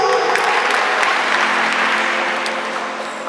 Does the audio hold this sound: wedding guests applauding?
yes